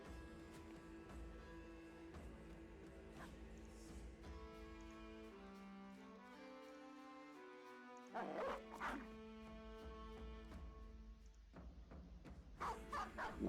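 War dogs in the Battle Brothers video game bark in a few short, sharp bursts near the end, rising over steady, sustained game music.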